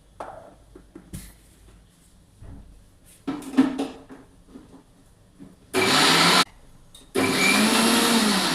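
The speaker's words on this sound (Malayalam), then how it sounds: "ഇത് നമുക്ക് മിക്സിയിലിട്ട് മിക്സിയുടെ ജാറിലിട്ട് കുറേശ്ശെ അരച്ചെടുക്കാം" A mixer grinder whirs loudly as it blends chopped ripe jackfruit in its jar, running in two steady bursts after some quieter handling and clatter of the jar.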